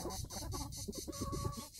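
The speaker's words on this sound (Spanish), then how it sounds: "Ya llevan las gallinas como unos 10 o 15 minutos." Chickens cluck in quick, repeated bursts close by, with a steady background hum underneath.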